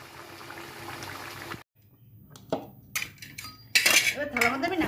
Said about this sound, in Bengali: এবার থালার মধ্যে আমি নামিয়ে দিচ্ছি।